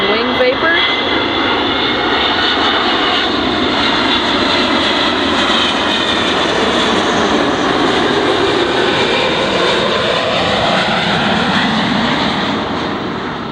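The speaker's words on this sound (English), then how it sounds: "Next up we got a 777 from London Heathrow. Already creating wing vapor." Boeing 777 jet airliner from London Heathrow roaring past close and loud, a broad continuous engine rush holding steady for over ten seconds before easing slightly, with a voice talking over it.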